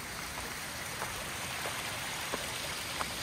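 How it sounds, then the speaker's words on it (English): A small natural waterfall near Grasmere in the Lake District gives off a steady, soft splashing rush of water, fairly faint and continuous, with a few brief sharper drips standing out. "See? Another waterfall here."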